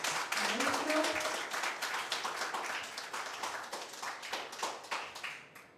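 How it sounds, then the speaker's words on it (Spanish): Audience applause at a concert-lecture on Cuban poetry. Brisk, close clapping is dense at first and then thins to scattered claps that fade toward the end, with a voice heard briefly early on. "Los invito a recibirlo con un aplauso"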